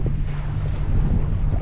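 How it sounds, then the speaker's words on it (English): A boat motor idles at the stern while cruising a river near Ottawa, a steady low rumble under broad wind and water noise, continuous with no talk. "We just have our motor idling in the back there."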